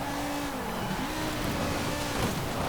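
A car engine from the Forza Horizon 4 racing game drones through long gears on a downhill run, holding a steady mid-pitched note that climbs slowly rather than revving high.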